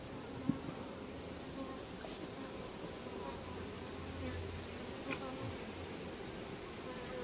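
Honey bees buzz continuously around an opened hive being split, a dense close swarm drone with a few faint knocks, no talking.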